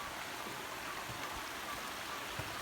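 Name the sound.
small creek flowing under a log bridge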